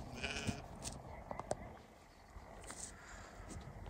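Sheep for sale on a farm bleat several times in short, faint calls, with scattered shuffling and low outdoor noise, while someone talks softly nearby.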